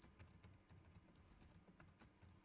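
Someone types a Facebook post on a computer keyboard, with quiet rapid key taps in an uneven run over a faint steady whine.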